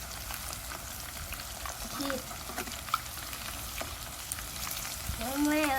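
Wontons fry in hot oil with a steady, dense sizzle and crackle throughout, while a few brief knocks of a utensil and short voice-like tones rise near the end.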